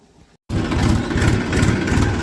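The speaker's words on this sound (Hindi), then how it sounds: "अब हम जो है ट्रैक्टर यहीं लगाएंगे, बिल्कुल मिंदर भाई के पास में।" A farm tractor parked by a field for loading a sugarcane trolley idles after a brief gap, its close, loud engine chugging in a steady low throb with no voices.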